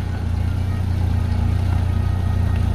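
Ford Fiesta 1.5 with a dual clutch gearbox idling while being parked at night at a roadside, a steady low engine hum running close and even throughout with no talk.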